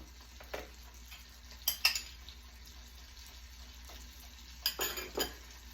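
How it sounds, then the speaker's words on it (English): A tablespoon of Land O Lakes butter melts in a little skillet before floured ribeye steak goes in, giving a faint, quiet sizzle broken by a few soft utensil clinks. "we have some butter melting here in this little skillet"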